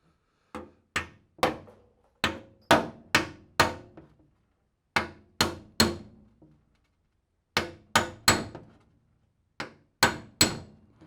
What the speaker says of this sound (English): So what I was doing is I was doing some soft hits, just trying to make sure the dolly was in the right position.